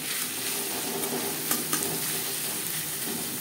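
Chopped onion and slit green chillies frying in refined oil, a steady close sizzle with a couple of faint clicks of stirring, no talk.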